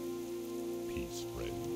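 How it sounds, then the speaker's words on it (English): Rain falls steadily in a World of Warcraft Dragonflight game scene, a soft continuous patter heard under sustained background music with tonal swells and no talking. "The sound of the rain."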